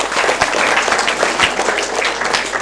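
An audience at a quiz show gives loud, sustained applause, dense continuous clapping close by with no pauses.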